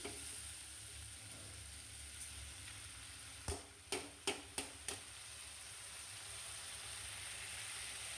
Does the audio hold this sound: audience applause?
no